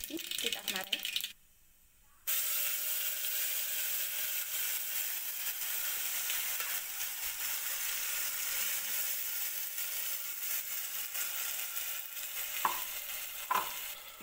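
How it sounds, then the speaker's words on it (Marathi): Ginger garlic paste hits hot oil for chicken soup, a loud steady sizzle that starts with a brief drop to near quiet, then carries on evenly close up, with a few clinks of stirring near the end. "आता यामध्ये आपण जे ग्रेव्ही केली आहे अद्रक लसूण पेस्टची ती टाकणार आहे।"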